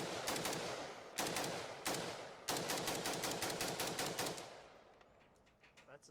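AP53 rifle, an HK53 clone, fired outdoors in several quick bursts of loud cracking shots, the last burst a long rattling string that fades into echo and faint background noise.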